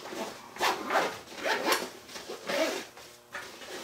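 A zipper on the main pocket of an everyday-carry bag is pulled open in several short, quiet rasping strokes, close by with no talking.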